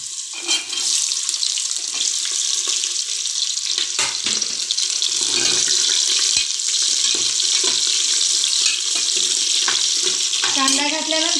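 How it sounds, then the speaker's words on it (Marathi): Chopped onion dropped into hot oil with garlic in a pan while cooking whole masoor dal, a continuous loud hissing sizzle that holds steady throughout, with stirring scrapes. "आता आपण कांदा घालूया।"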